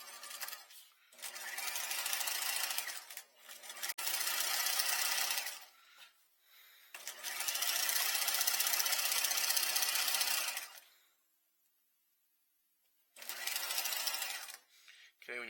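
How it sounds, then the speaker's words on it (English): A sewing machine runs in long steady bursts while stitching an inseam pocket at a half-inch seam allowance, with brief stops and silent gaps between runs. "I'm just going to go ahead and stitch this at a 1/2 inch all the way around"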